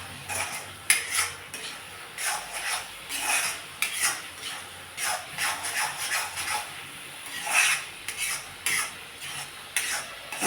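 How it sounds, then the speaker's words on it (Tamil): A spoon scrapes and clinks against a pan while thick pumpkin halwa is stirred with ghee, roasted almonds and cashews, giving repeated close, irregular scraping strokes over a faint sizzle. "இந்த ஸ்டேஜில் கொஞ்சம் கூட நெய் விட்டுட்டு இந்த வறுத்து வச்ச பாதாம் முந்திரியும் இதில் போட்டு கிளறி"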